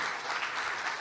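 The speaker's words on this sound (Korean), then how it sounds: "큰 박수 부탁드립니다" Steady applause from a conference audience at a Korean scientists' congress, continuous dense clapping filling the short stretch with no pauses.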